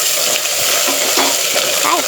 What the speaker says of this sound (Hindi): अदरक लहसुन डाल के इसको थोड़ा सा भूनेंगे